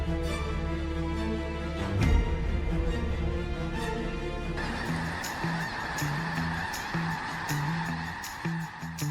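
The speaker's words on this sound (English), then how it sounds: "Millions of snow geese gather to feed and overwinter." A large flock of wintering snow geese honks continuously, many overlapping calls forming a dense, loud chorus with rhythmic clamor throughout, no voices present.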